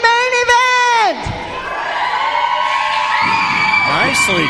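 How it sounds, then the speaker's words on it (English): A wrestling event crowd cheers and whoops loudly, a continuous roar of many voices with a few higher shouts standing out. "They're cheering for you"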